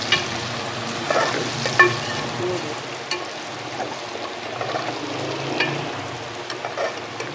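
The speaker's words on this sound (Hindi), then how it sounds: "उसको हम थोड़ा सा फ्राई करेंगे" Steady sizzling of garlic ginger paste frying in a pan, with occasional stirring scrapes and soft clatter, close up and continuous.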